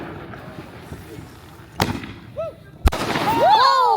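New Year's fireworks go off nearby, with a couple of sharp bangs followed by rising whistling shots and crackling, while people cheer and talk over them.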